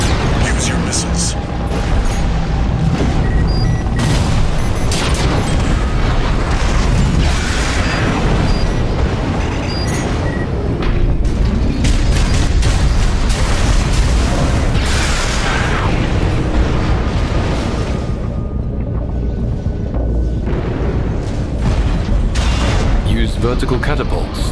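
Missiles firing and explosions in a combat video game, a dense continuous barrage of booms and blasts running the whole time, loud and close, mixed with game music and voices.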